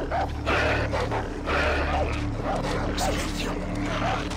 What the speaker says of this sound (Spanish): ¡Silencio! ¡Maldito perro!